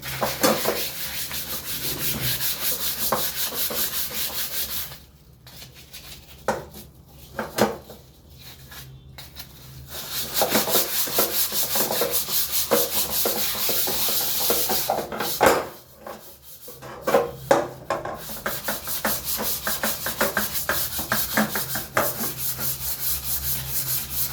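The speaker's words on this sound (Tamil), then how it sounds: "இப்போ கம்பினாரு எமிரி ரெண்டையும் வச்சு நான் தேய்க்க போகிறேன்" Steel wool and emery scrubbing the sooty back of a kadai, a steady rough rasping that runs for long stretches, pauses briefly twice, then resumes close and fairly loud.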